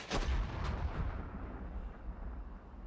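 A tank turret fires in the video game 45 Second Front, a single heavy boom up front followed by a rumbling, decaying tail that fills the rest of the moment, with no talking.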